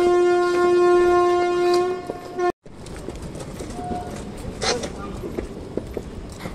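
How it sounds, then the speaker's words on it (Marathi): A train horn blares long and steady at Sawantwadi Road railway station as the train departs, then cuts off and gives way to the rolling rumble and clatter of the moving train, with faint background voices. "ट्रेन पण सुटली."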